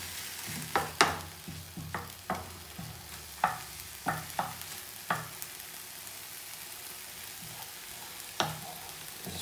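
Garlic fries in a pan as the start of a bolognese, a constant close sizzle punctuated by a series of sharp stirring scrapes and clicks at irregular intervals.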